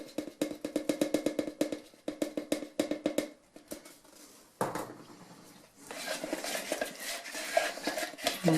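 A tool scraping and stirring a thick putty-like mixture in a container, with rapid rhythmic clacking strokes, a pause, then a denser, rougher scraping passage; close and fairly loud, with no talking.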